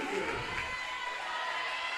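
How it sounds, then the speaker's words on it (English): A gym crowd at a Bethany women's basketball game cheers and roars as the home Broncos starters are announced, a steady wash of distant shouting and applause with no clear break. "to the roar of the crowd"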